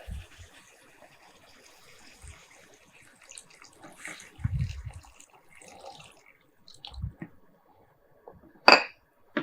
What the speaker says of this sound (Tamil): நிறைய தண்ணி ஊற்றி அப்படியே ஒரு ஆறு நிமிஷம் நம்ம வேக விட்டுடலாம்